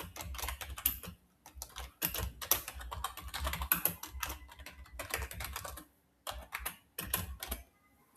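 Computer keyboard typing in quick irregular bursts of close, crisp key clicks, broken by short pauses, with no talking.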